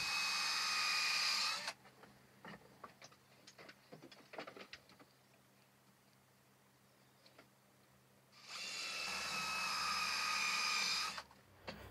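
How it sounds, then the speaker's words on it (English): A power drill whirs loudly for a couple of seconds, then scattered taps and clicks, then a second long, steady drilling burst, close by, drilling holes in timber for a mortar board stand. "let's get on and drill the next holes"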